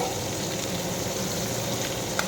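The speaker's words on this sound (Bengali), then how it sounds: "মাছটা দিয়ে ভাজি" Small puti fish fry in hot oil in a pan, a steady, dense sizzle that holds evenly throughout with no talk.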